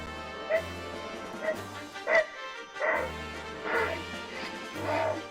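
Heron laguz dance cry from the Fire Emblem: Path of Radiance video game, a strange honking bark repeated about six times in an uneven rhythm over a low steady game tone, fairly close and moderately loud.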